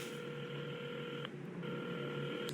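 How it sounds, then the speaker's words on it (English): A telephone being dialed in the game Assemble With Care, steady electronic tones broken by a short pause before the tone resumes, clear and close with no talking. "at the counter, Carmen had started dialing the phone"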